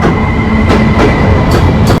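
A train rolls steadily along the rails in Bulgaria, loud and close, with a continuous rumble and periodic clacks from the wheels passing over track joints.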